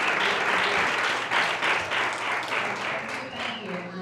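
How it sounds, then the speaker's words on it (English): An audience applauds the faculty, a fairly full patter of clapping throughout, with some voices mixed in. "Give them a round of applause"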